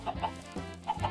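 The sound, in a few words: chickens clucking in video game Minecraft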